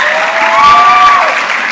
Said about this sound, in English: big hands of applause to these representations